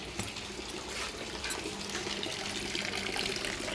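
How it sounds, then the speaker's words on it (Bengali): Tap water runs steadily into a kitchen sink while fresh fish is rinsed, a continuous splashing gush heard close and alone, with no talk over it. "সকালে মাছ নিয়েছিলাম মাছটা ধুয়ে নিই আগে"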